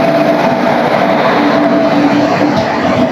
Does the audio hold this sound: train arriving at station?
yes